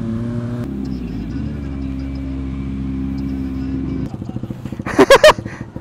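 A sport motorcycle engine drones steadily at a close, even idle-like pitch, shifts tone, then bursts into a few sharp, loud revs near the end, with voices exclaiming nearby.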